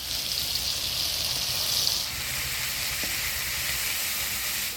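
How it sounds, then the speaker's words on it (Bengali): Green chillies, black cumin and tomato sizzle in hot tempering oil for a Bengali vegetarian dish, a steady hissing fry that is louder for the first two seconds, then settles to a softer sizzle with no talking. "ফোড়নে দিয়ে দেবো ফাটে রাখা কাঁচা লঙ্কা আর কালো জিরা দিয়ে দেবো টমেটো"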